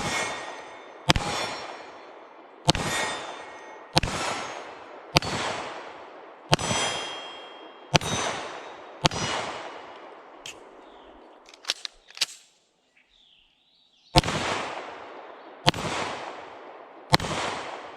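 Sig Sauer P320 AXG Pro pistol firing Fiocchi 115 grain full metal jacket rounds at steel targets from 10 yards: about a dozen sharp, loud shots in an uneven rhythm, each with a ringing metallic ping, broken by a short pause with faint handling clicks.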